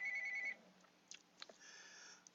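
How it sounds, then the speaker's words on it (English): A telephone rings during a math lecture: a short electronic trilling ring lasts about half a second and then cuts off, followed by a few faint clicks and quiet room tone. "Another phone call."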